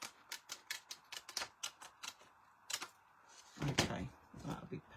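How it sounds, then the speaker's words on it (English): Scissors trimming red liner tape on a papercraft project, a quick series of crisp snipping clicks close up, then some rustling handling noises, with no talk. "I'm just going to trim that down because I really want that to stick on that red liner tape"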